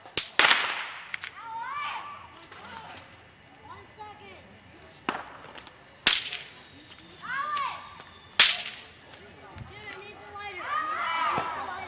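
Several sharp Fourth of July firework bangs and crackles burst outdoors at irregular intervals, with whistling streaks and people chattering and calling out between the blasts.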